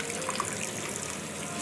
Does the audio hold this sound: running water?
yes